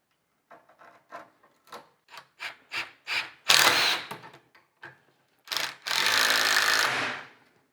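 A screw is driven into a rawl plug in a wall during a convent renovation: a run of short, evenly spaced whirring bursts, then two longer, louder sustained bursts of the driver.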